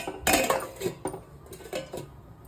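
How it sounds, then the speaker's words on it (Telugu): Potato cauliflower curry in a metal pot is stirred after water is added, with a quick series of spoon clinks and scrapes against the pot, close and fairly loud. "ఇందులో కొద్దిగా అయితే వాటర్ పోసుకోవాలండి పోసుకొని బాగా కలుపుకొని"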